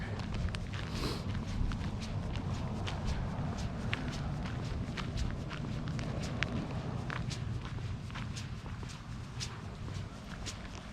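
Footsteps of a person walking around a sheltered campground among trees, a steady run of soft crunching steps close by over a constant outdoor rumble, with no talking.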